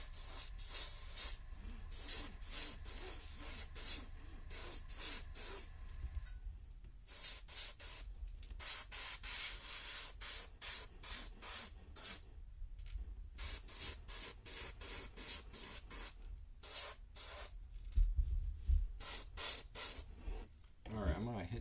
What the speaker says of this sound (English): Airbrush isn't happy with this one.